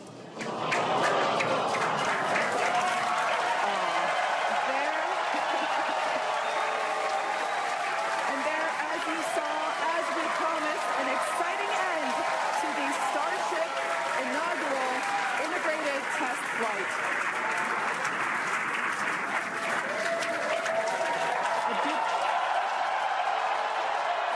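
A large crowd cheers and applauds continuously during a SpaceX rocket launch that goes wrong, a loud, sustained roar of clapping and whooping with a voice talking over it.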